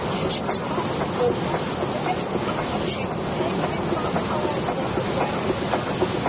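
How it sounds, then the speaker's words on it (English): A train rumbles steadily on an old, noisy tape recording, a low continuous roar running beneath a voice that talks throughout. "That's not the roar of the ocean. It's the rumble of a train."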